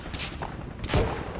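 Frag grenade detonations in the Arma video game on the Tanoa map: two sharp, loud blasts about three quarters of a second apart, the second followed by a deep rumbling boom under steady battle noise.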